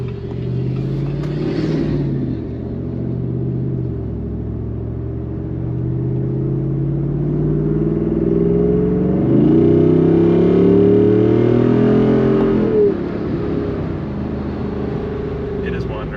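A 2021 Jeep Wrangler Rubicon 392 engine rumbles steadily from inside the cabin, its pitch sweeping up and down as it revs on a downshift, with people talking over it throughout.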